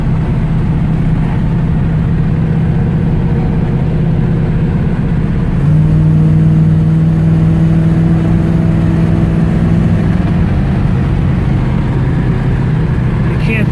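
A 1968 Camaro RS with an automatic transmission and updated drivetrain cruises at about 45 mph. Its steady engine hum and road drone continue throughout and rise slightly partway through, with no speech.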